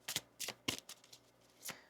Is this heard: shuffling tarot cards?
yes